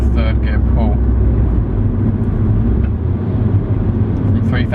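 A 2000s Audi S3 8L accelerating hard through third gear, a loud, close, rising engine drone heard from inside the car, with someone talking over it.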